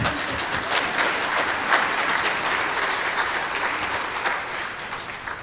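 An audience at the Divine Mercy Congress 2016 in Oceania breaks into sustained applause during a testimony, dense clapping that holds steady throughout.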